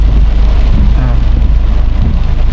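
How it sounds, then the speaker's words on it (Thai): Heavy rain falling during a downpour in Fang, Thailand, a dense steady wash of noise with strong low rumble like wind buffeting the microphone, short and loud throughout. "ช่วงฝนตกนะครับ"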